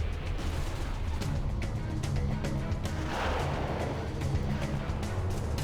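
Rocket fire thuds and booms in the real-time strategy game Command and Conquer: Generals, a continuous barrage of battlefield blasts with a swelling impact midway.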